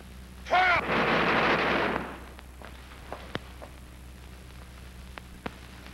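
A firing squad rifle volley in a 1943 wartime film: one loud, sharp crack that rings out in a short echoing roar, followed by a few faint distant knocks.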